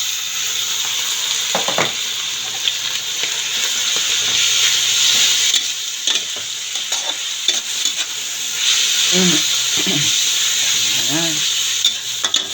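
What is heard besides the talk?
ground meat frying and sizzling in a pan, being stirred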